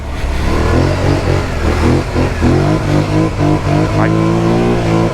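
A Polaris Scrambler 1000S ATV engine revs hard while being ridden with the rear tires breaking loose, a loud, close, continuous roar rising and falling with throttle, with a rider talking over it.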